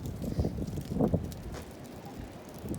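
Strong outdoor wind of about 35 mph buffets the microphone with a low, uneven rumble that rises and falls in gusts throughout.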